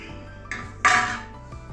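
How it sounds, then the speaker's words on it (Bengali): A metal lid clanks onto a pot of mung dal cooking with cauliflower and potato, a single sharp clatter with a brief metallic ring, close and alone after a softer clink. "এবারে ঢেকে দেব একটা ঢাকনা দিয়ে।"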